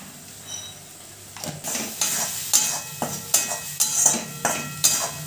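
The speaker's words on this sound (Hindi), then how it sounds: "मसाला को अच्छी तरह से भूजेंगे और भूजते भूजते ही अभी इसमें हम लोग डाल देंगे हल्दी।" Masala roasts in hot oil in a pan while a spoon stirs it in repeated scraping strokes. The sizzle is steady and close, and rhythmic metal scrapes sit on top of it.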